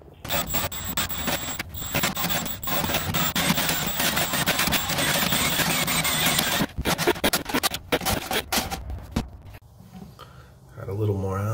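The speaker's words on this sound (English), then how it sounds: "Snake it a couple more times." A drain snake works through a 1.5-inch metal bathtub drain, giving a long, loud, close scraping, rattling and squealing stream with a few brief pauses before tapering off.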